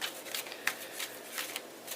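A deck of tarot cards is riffled and shuffled up close, giving a run of crisp, papery flutters and soft slaps in a loose, repeating rhythm with no voices.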